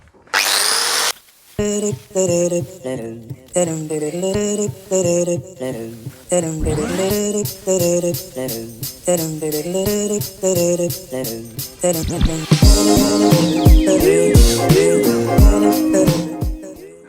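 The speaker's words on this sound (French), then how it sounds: "j'ai décapé tous les côtés quoi, de chaque tube" A power tool strips paint from steel tubes for a body-shop cart build, whining loudly in repeated bursts with short pauses between, the pitch shifting under load before a final, harsher sustained grinding run.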